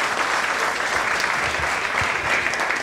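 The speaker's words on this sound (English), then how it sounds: "give them a round of applause guys" Steady audience applause at the Mixology & Flair Camp 2015 bartending event, a dense wash of clapping from a sizable crowd that holds evenly throughout with no talk over it.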